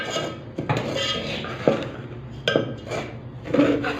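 A metal spoon knocks against a cooking pot while herbal medicine for kidney stones is stirred, giving several sharp clanks spaced about a second apart over a low scraping, stirring background, close and fairly loud.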